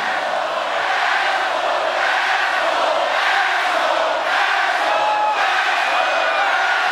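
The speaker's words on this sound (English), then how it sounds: "The sold-out crowd getting their disapproval" A sold-out wrestling arena crowd voices disapproval in a continuous loud roar of booing and jeering that swells and falls without letup.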